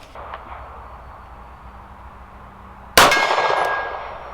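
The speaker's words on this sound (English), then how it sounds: "Gong at 50" A steel gong target 50 yards away, hit by a Kimber KDS9c pistol shot, gives one sharp metallic clang with a bright ringing decay after a stretch of quiet outdoor background.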